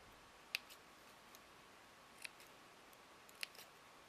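Scissors trim a fabric wedding appliqué, giving three faint, crisp snips spaced apart against a quiet background.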